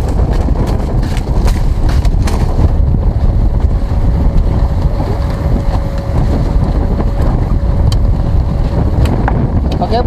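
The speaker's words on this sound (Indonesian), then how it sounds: "Anginnya ini lumayan ini bos." Strong wind buffets the microphone at sea off Marunda, a constant heavy low roar with rougher gusts, close and loud, with faint knocks and a thin steady tone underneath, alone without talk.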